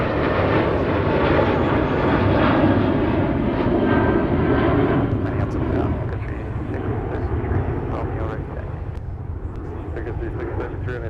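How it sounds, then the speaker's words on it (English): A Southwest airliner departing Minneapolis–St. Paul on flight 1296 to Baltimore, a loud, close engine roar that is strongest early and gradually fades as the aircraft climbs away. "Southwest departure was flight 1296. They were up in a hurry and they are headed to BWI, which is Baltimore"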